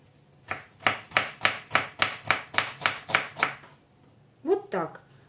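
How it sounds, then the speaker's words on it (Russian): A knife chops rapidly through onion on a board, about eleven crisp, evenly spaced cuts, then a pause and a short burst of rustling. "Нарезаем лук."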